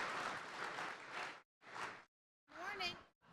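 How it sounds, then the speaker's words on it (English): Audience applause breaks out at Franklin Tomorrow's Breakfast with the Mayors: a dense burst of clapping for about a second and a half, then shorter bursts with a voice speaking over them. "Can you give them a big round of applause?"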